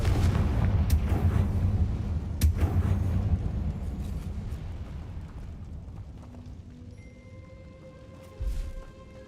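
A Confringo fire spell blasts in the wizarding game Hogwarts Legacy, a loud booming burst with rumbling impacts that fade into a quieter tail, then one more short thump near the end.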